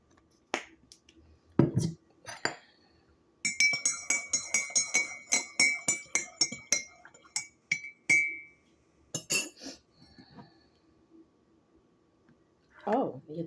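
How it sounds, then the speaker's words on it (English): Teaspoon clinking against a cup while honey is added to maple chai tea: a close, bright run of rapid metallic clinks that comes in uneven bursts with short pauses, plus a few softer handling knocks. "Put about a teaspoon of honey in there."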